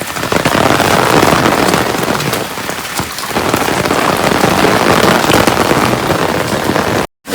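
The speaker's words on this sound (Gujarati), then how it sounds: "વરસાદ હજી કાંઈ બંધ નથી થયો" Heavy rain pours steadily on a hard surface by a lighthouse at Diva Dandi, a dense continuous patter that briefly eases before returning at full strength.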